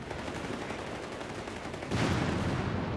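Gunfire rattles in Company of Heroes 3, a dense stream of distant shots and bursts that swells into a louder volley near the end.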